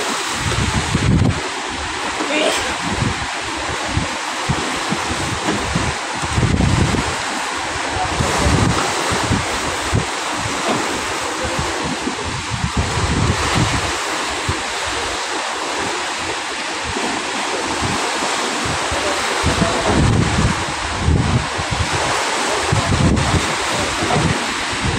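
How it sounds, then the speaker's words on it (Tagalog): Large waves crash against the Manila Bay shore at Navotas in stormy weather, a loud, continuous surging roar with repeated heavy breaks and strong wind buffeting the microphone throughout. "Sumasalpok yung alon."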